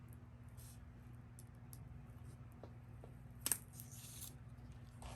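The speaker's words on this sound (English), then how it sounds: "take a pair of scissors and cut your piece of vase filler in half" Scissors cut a piece of craft vase filler in half, giving one short, sharp snip that stands out against a quiet room hum.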